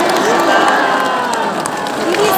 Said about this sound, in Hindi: जोरदार ताली बजा करके सीताराम बोले।